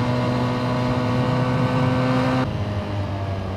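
A Benelli TNT 250 motorcycle engine held at high revs, a loud steady whine and drone with a slight drop in pitch near the end, no talk.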